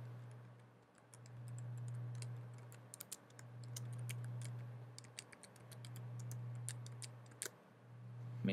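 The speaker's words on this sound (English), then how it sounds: "If you get an authentication error, just retype in the credentials" Fingers type on a Mac keyboard in scattered, uneven bursts of light key clicks over a low, steady electrical hum.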